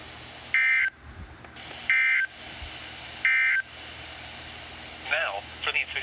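Emergency Alert System attention tones from a weather radio broadcasting a severe thunderstorm warning: three loud, evenly spaced electronic burst tones, each under half a second, followed by fainter chirping data sounds.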